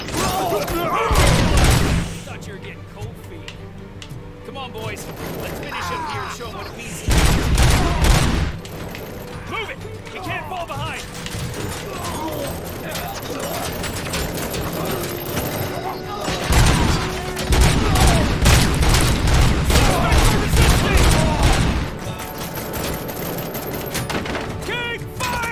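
Heavy gunfire in the RoboCop Rogue City video game, dense volleys of shots and booms in loud bursts that rise and fall across the scene, with brief voices in between.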